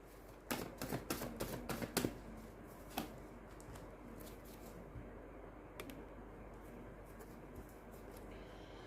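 Tarot cards shuffled and drawn from a deck, a quick run of crisp card flicks and snaps near the start, then a soft occasional card tap over a quiet room hiss.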